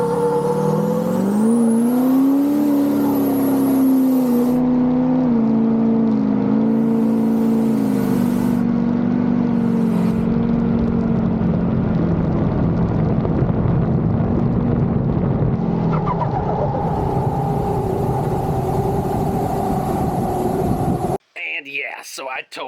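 A big-turbo Duramax diesel GMC Denali pickup accelerates hard on a test run, its engine note climbing and holding loud and close under wind noise before cutting off abruptly near the end.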